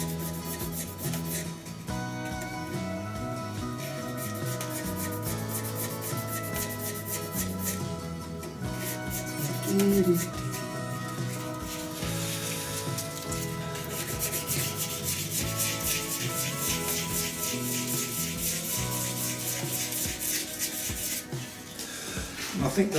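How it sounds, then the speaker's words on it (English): A buffing wheel polishes a cast resin shaving brush handle with a steady, dense rubbing whir, the workpiece pressed into the spinning wheel at close range throughout. "these are the hard parts to get into on the buffing wheels"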